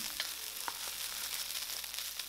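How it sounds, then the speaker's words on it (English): Steady hiss of rice stir-frying in a hot pan, with occasional light scraping and clicks of stirring, continuous and close. "stir fry until every grain of rice is separated"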